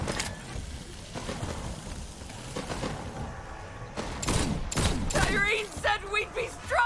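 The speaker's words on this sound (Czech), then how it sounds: "To letělo ta střelba." Gunfire bursts from a Borderlands-style shooter video game, sharp repeated shots scattered through the clip alongside game noise and clattering effects, with talking over much of it.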